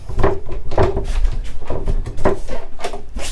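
A folding cabin partition on a De Antonio D50 yacht is folded back and pinned to the floor, giving several close, hollow wooden knocks and thunks in an irregular series.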